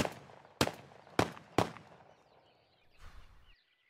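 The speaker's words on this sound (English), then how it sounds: "How many rounds can you feed through a Remington Versamax before it malfunctions?" Three loud, sharp shots from a Remington Versamax 12-gauge semi-automatic shotgun ring out in quick succession outdoors, each with a short decaying tail, followed by a quieter rustle near the end.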